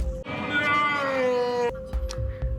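A cat meows from the Sparkly Kitty card in the Stormbound video game: one long, loud, tonal drawn-out meow, followed by softer game sound effects.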